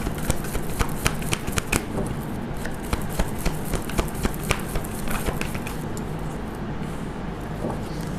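Tarot cards are shuffled and drawn by hand, a rapid run of close, crisp flicks and riffling snaps that continues steadily for several seconds with no talking.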